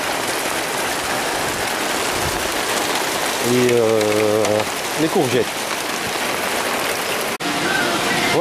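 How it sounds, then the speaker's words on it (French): Steady rain pattering down across a vegetable garden with courgettes, sunflowers and maize, a continuous hiss throughout while someone speaks over it at moderate volume. "avec la pluie qui tombe"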